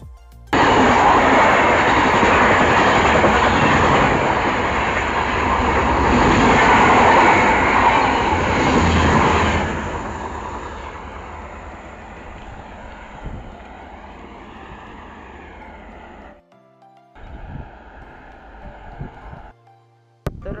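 A train rumbles loudly across the large railway bridge over the Bhima river, a broad continuous roar for about ten seconds that then fades into quieter rolling and clatter.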